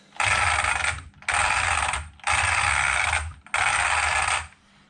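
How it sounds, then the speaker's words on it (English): Four bursts of rapid ratchet clicking, each lasting about a second with short pauses between, as a ratchet wrench tightens the bottom bolts during a twin-motor ESC installation; close and loud, with no talking. "now I'll get the bottom bolts put back on"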